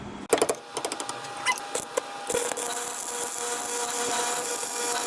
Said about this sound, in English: We got a grinder.